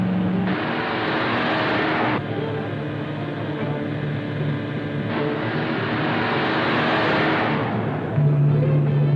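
A car drives steadily and picks up speed, its engine a loud continuous drone with shifting pitch, heard alone without talk.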